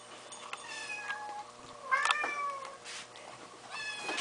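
A kitten shut in a kitty playpen meows loudly and repeatedly in the background, its calls rising and falling with short pauses between them.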